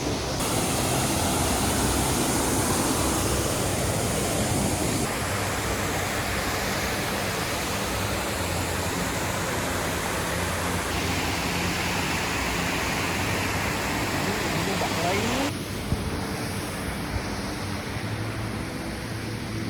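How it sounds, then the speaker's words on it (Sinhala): Water rushes steadily along a village water channel near Balangoda, Sri Lanka, a loud, unbroken close roar of flowing water with no voices. "ඉතින් මේ තියන්නේ මේ ගමේ මිනිස්සුන්ගේ වතුර ගෙනියන පරිහරණයට ගෙනියන වතුර මාර්ගේ"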